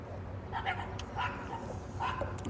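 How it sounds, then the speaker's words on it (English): Small dogs bark and yip in a few short bursts at moderate distance, with a faint hum of a room behind them. "Hear my little dogs."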